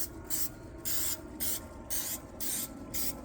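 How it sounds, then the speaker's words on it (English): Six short bursts of cooking spray hiss onto a muffin tin in a steady rhythm, close and loud, with brief pauses between each spritz. "So, I like to just spray them with a little pan."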